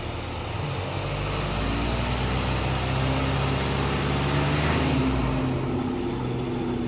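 A 2015 Volkswagen Passat TDI diesel with a Rawtek cold air intake, revving steadily with a rising, building engine drone and intake whoosh, close and loud, with no talking.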